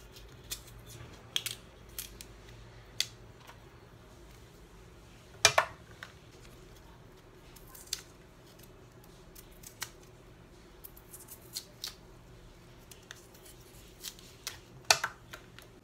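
Fresh cassava is peeled by hand for suman, with sparse, faint, close-up snaps and crisp scraping clicks at irregular intervals over a quiet background.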